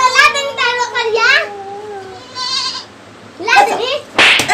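Goat bleating in short wavering calls, mixed in with children chattering and shouting close by.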